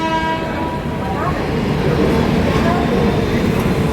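A train sounds near a platform, with a low rumble and a brief horn-like tone, amid a busy station background.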